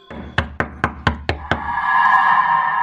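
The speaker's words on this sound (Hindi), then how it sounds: "नॉक करके देखती हूँ।" Six sharp knocks on a room door land in quick, even succession, close and loud, then give way to a steady low hum with no voices.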